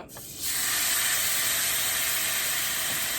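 Marinated turkey breasts hitting hot olive oil in a pan, a sudden loud sizzle that builds within half a second and holds as a steady, close crackling hiss.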